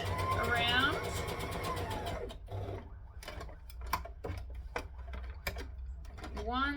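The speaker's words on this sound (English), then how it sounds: "So we're going to stitch around." A home sewing machine stitches gathers around the top of a sleeve for a McCall's M8083 garment, first in a fast mechanical whirring run, then slower intermittent clicks and ratcheting stitches, close up, with a voice talking over parts of it.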